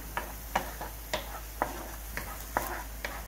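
Spices such as turmeric, salt and hing stirred into tomato puree in a pan for gobhi masala, a spoon scraping in a steady rhythm of about two soft strokes per second over a low sizzle.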